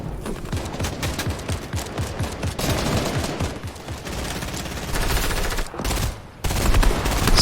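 Fortnite gunfire during an endgame fight: dense, rapid bursts of shots and sprays with brief pauses, loud and close, with no voices over it.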